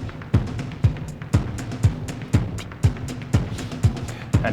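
Drum samples from a DIY eurorack sample-playing module built on a Daisy board, pushed through heavy drive distortion: punchy, gritty kick and snare hits in a steady, evenly spaced loop, loud and up close with no voices.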